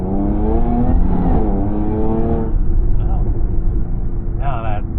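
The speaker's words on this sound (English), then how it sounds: "let's do a second gear acceleration test" A Jaguar F-Type accelerates hard in second gear, the engine note rising steadily, loud and close, then easing off, with faint voices underneath.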